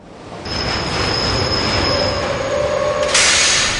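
A Paris metro train runs loudly and close by, its wheels squealing high and steady and rising into a harsher screech near the end.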